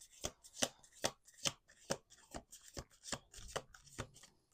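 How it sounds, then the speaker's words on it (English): Tarot cards are shuffled with soft, rhythmic riffling snaps, about a dozen quick strokes, close and fairly quiet with no talking. "We're going to do 2 more shuffles."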